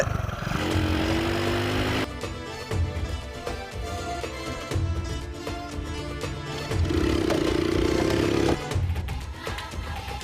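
A modified motorcycle is ridden outdoors to test its condition, its engine droning steadily up close and rising in revs in a few bursts.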